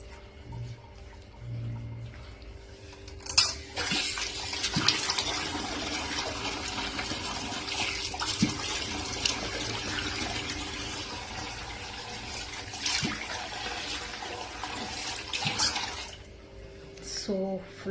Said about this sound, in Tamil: இருங்க நான் வாஷ் பண்ணிக்கிறேன்.